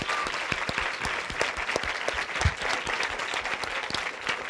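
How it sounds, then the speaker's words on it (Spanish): Audience applause at a recognition presentation during the Uninterlingua 2019 event, steady crisp clapping from a crowd at moderate distance, continuous throughout with no voices. "Un aplauso más fuerte, ¿no?"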